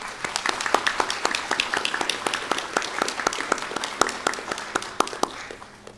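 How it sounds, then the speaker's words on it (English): Applause at a practical nursing graduation ceremony, a modest group clapping in quick, slightly uneven rhythm that tapers off near the end, with no voices over it. "Let's give them a big round of applause."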